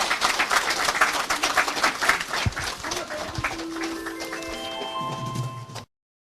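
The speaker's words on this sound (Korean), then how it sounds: "큰 박수 부탁드리겠습니다." An audience applauds during a social service award presentation, with dense clapping that gradually thins out. A sustained musical chord then fades in before the sound cuts off abruptly.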